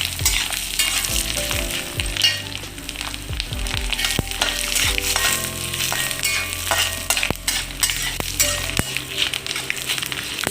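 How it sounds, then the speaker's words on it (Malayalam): Jackfruit thoran being stirred and fried in a pan, a steady loud sizzle broken by repeated scraping and clinking stirs throughout. "നന്നായിട്ട് ഇളക്കി വെക്കാം ഇനി മൂക്കോട്ടെ"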